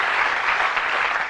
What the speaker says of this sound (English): Give them a nice round of applause, Wendy and Ben.